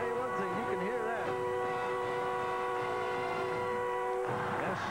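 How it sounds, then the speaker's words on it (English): A loud stadium fog horn blares at a TCU college football game against Texas, a sustained tonal blast over constant crowd roar, with a broadcast commentator's voice faintly woven in. "the fog horn sounding loud at Pat Sullivan's club"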